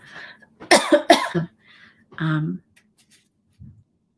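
A person coughs a few times up close, with a quick cluster of harsh coughs followed by a single softer one, then a faint throat sound in a quiet room.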